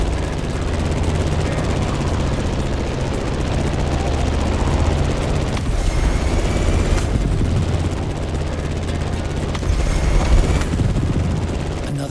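Plane engine in the racing game The Crew Motorfest, a loud, continuous droning roar with a thick low rumble that holds steady throughout, with brief shifts in texture but no pause.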